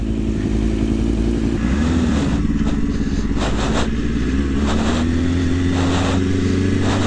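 A Kawasaki Ninja motorcycle being ridden, its engine droning loudly and steadily with shifting pitch, rising and falling through gear changes, mixed with wind rush and rattling clatter.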